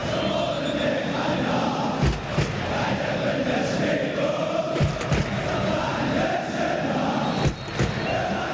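Wydad Casablanca supporters in the stadium stands roar as a steady, dense crowd din across the whole stretch, with a few louder thuds and surges breaking through.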